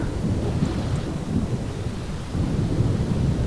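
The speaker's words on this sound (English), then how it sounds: "Very loud thunder." Loud, continuous thunder rolls through a thunderstorm, a deep close rumble layered with the wash of rain, with no voices.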